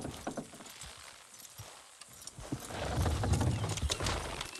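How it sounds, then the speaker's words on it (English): In Red Dead Redemption 2, horse hooves clop on the ground and a horse whinnies, then a heavier rumbling grows louder as the horses strain forward pulling something down. "Horses will pull it clean down."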